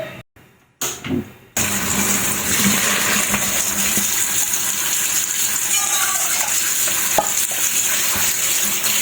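Chicken innards are stirred in a pot, giving a dense, continuous wet sizzle and churning that stays loud and steady after a few brief bumps and knocks at the start, with no voices.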